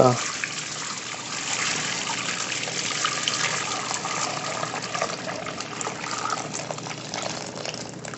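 Liquid from an Italian beef cooking pot pours through a metal colander and a fine-mesh strainer, making a continuous rushing, trickling splash that holds steady for several seconds.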